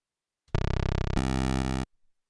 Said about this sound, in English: there's square waves, which look like a castle rooftop, and they sound like this